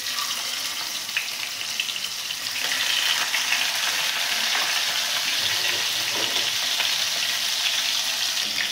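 Chital fish pieces coated in turmeric fry in hot oil, a dense, steady sizzle that grows louder after the first few seconds and holds strong to the end.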